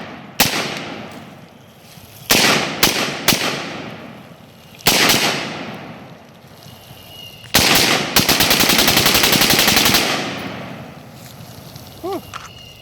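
A Bushmaster ACR rifle fires outdoors, loud sharp single shots followed by a long rapid string of shots, with echoing tails between bursts and a voice briefly heard.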